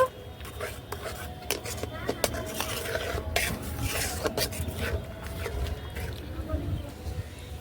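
A spoon stirs and scrapes against a metal pot while cardamom powder and grated coconut are mixed into a malai ice cream base, with utensils clinking close by and a voice talking over it.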